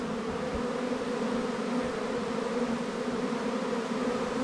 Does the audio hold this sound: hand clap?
no